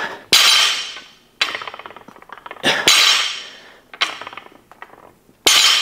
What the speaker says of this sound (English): the barbell's gonna hit the belt